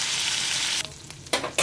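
Beef cubed steak fries in a smoking-hot pan, a loud continuous sizzle that briefly drops away and then flares up again in short bursts as the meat is moved.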